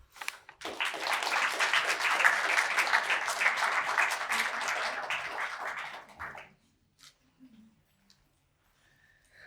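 An audience breaks into applause for the young women finalists of the Battle of Flowers oratorical contest, strong, even clapping for about six seconds that stops abruptly, followed by near silence with a few small noises.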